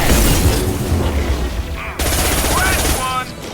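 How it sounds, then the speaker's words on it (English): A high-impact gunshot in Mass Effect 2 cracks out sharply midway through a loud, busy wash of in-game combat noise, after which the dense sound continues. "Firing a high-impact shot."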